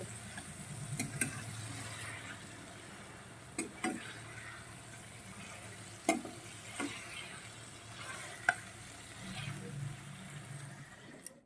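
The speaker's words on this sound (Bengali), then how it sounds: "এই পর্যায়ে আমি দিয়ে দেব ভেজে রাখা আলু আর সোয়াবিন এটা দিয়েও আর একটু সময় আমি কষিয়ে তারপরে জল দেব" Fried potatoes and soybean chunks being sautéed in a pan for a Bengali egg curry: a quiet, steady sizzle broken by occasional sharp clinks and scrapes of a spoon stirring against the pan.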